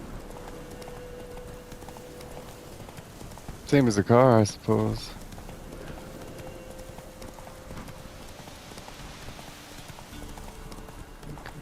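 In The Witcher 3 video game, a horse's hooves clop in a brief loud burst of quick beats, with someone talking before and around it.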